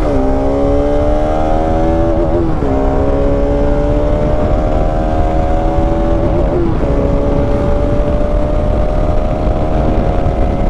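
A Bajaj Pulsar RS200 motorcycle engine drones steadily while riding, its pitch rising through gears with two brief dips at shifts, loud and continuous over constant wind and road noise.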